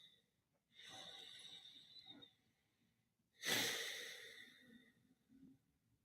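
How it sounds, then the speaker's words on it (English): Deep breathing before a meditation, two slow, close breaths: a long airy inhale, then a fuller, louder exhale, alone in a quiet room. "We're going to take a breath, and then we're going to do a little meditation"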